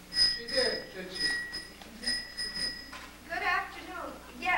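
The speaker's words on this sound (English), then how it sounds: "There goes that doorbell again." A doorbell chimes in repeated ringing bursts inside a house, bright sustained tones sounding several times over the first three seconds, with people talking underneath and continuing after the ringing stops.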